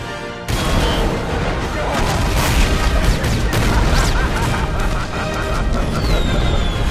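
A sudden loud burst of explosions and crashing booms, continuing as a dense, chaotic roar with sharp bangs and high whistling streaks.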